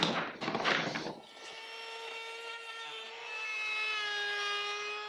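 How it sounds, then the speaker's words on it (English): Wooden cabinet pieces for shop storage are sanded: a short, rough, scratchy burst of abrasion gives way to a steady, whining power-tool hum that holds to the end. "Now just do a little bit of sanding on all your pieces"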